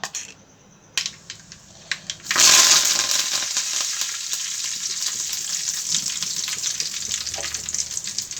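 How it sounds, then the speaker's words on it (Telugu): After a few quiet taps, tempering spices for dosa chutney hit hot oil with a sudden loud sizzle that keeps crackling and hissing steadily, punctuated by light clinks of stirring. "దీంట్లోకి తాలింపు వేసేసుకుంటే సరిపోతుంది"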